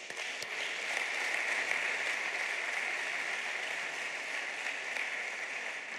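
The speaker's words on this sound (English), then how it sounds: "Please, can you give them a round of applause?" Steady audience applause for conference panelists at a summit session, a dense even wash of clapping sustained for the whole stretch at moderate distance, with no talk over it.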